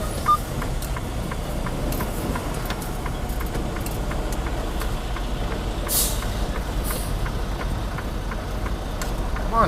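A truck engine idles with a steady low rumble, and the short hisses of an air brake sound near the middle of the clip.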